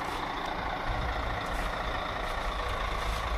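Large bus idling in a hotel parking lot, a steady low engine rumble close by that runs without a break and carries no voices.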